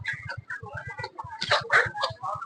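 Chickens cluck repeatedly at a busy chicken meat market, with steady, close clucks and a few louder squawks in the middle.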